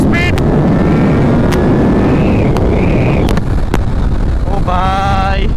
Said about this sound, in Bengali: যদিও অনেকটা উইন্ড ব্রাস্ট আমরা ফিল করছি, 100 উপরে উঠে গেছে বাইকের স্পিড।